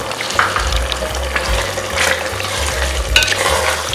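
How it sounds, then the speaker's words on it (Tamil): Chicken frying in a pot for cooker biryani after curd is poured in, giving a close, steady sizzle broken by repeated scraping stirs against the pot, with no voices. "இப்போது இந்த நான் 1/4 கப் தயிரை இதில் ஊற்றிடுங்க"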